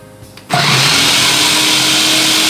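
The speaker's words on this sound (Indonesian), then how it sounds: "Nah, ini seperti tadi, tinggal kita nyalakan dan dorong." An electric slicer switches on and runs loudly and steadily as leeks are pushed through it, a dense high motor whine that starts abruptly and continues without a break.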